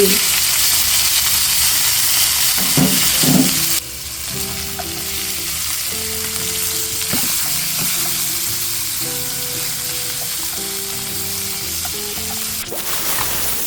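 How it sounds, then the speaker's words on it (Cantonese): Steady loud sizzling of meat frying in a hot wok, a continuous crackling hiss with occasional clatters and stirring noises, no talking. "我哋先煎一煎呢個排骨。"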